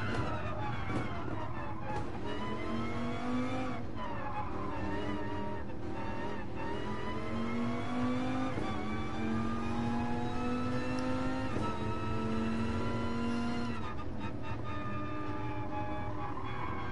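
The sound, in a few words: car driving in a video game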